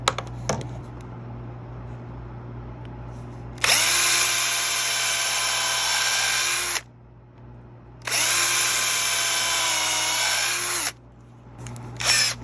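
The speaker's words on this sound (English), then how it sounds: "I'm just going to drill these through." A power drill with a 1/16-inch bit whines loudly in two long bursts through wood on a box ukulele's back, each about three seconds, with a short pause between and light clicks at the start and end.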